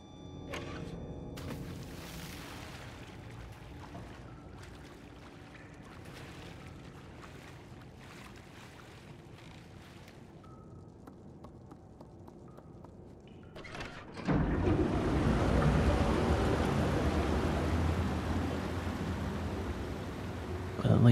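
Water and waves in the Little Nightmares DLC The Depths, a soft windy wash at first, then a sudden louder rushing, sloshing surge of water that continues steadily to the end.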